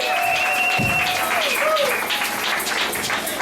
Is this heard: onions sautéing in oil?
no